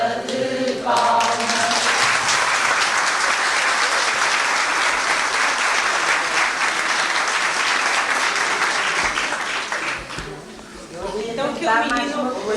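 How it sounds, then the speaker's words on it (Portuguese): A long round of applause from an audience at a spiritist seminar in Portugal, dense and loud for about ten seconds before fading, with voices briefly heard at the start and again at the end. "Uma salva de palmas."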